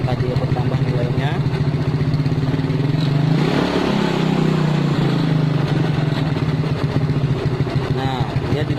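Motorcycle engine running loud and close, with one throttle blip that rises and falls back to idle partway through, while someone talks over it.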